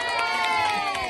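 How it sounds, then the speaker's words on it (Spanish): An audience cheers and shouts together, a dense, lively burst of overlapping voices with a few clapping accents, loud and close. "Un aplauso para ella."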